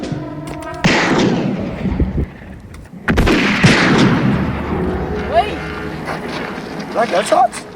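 Distant gunshots ring out in a tense outdoor short-film scene: two heavy, echoing reports a few seconds apart, each trailing into a rumbling tail over a quiet background.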